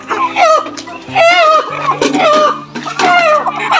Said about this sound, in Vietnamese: Chủ nhà mang gà ra lấy tiếng đó.